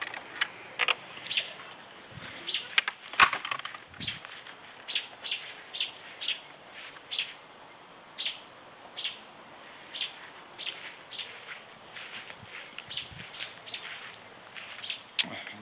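Small birds chirp near a nest, a series of short bright tweets repeating every second or so, fairly close and clear over a quiet background with no talking.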